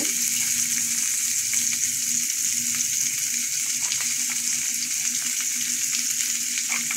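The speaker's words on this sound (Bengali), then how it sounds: "এখন একটু ভেজে নিচ্ছি।" Garlic, green chili and onion sizzle steadily in hot oil in a pan, a loud continuous close frying crackle with faint stirring scrapes and no talk.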